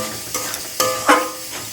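Spices and tomato frying in a pan for ghugni, a few short sizzles and stirring scrapes in quick bursts, close and fairly loud, with no talk.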